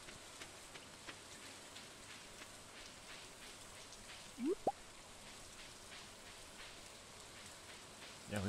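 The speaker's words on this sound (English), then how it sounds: "It's raining, Pam." Steady soft rain from the video game Stardew Valley, a faint even patter throughout with a couple of brief squishy blips near the middle and end.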